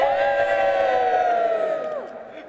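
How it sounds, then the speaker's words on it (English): A big crowd at a Belfast public event with the Sinn Féin Lord Mayor lets out a loud cheer that holds steady and then fades, with voices blending into one swelling roar. "Big cheer."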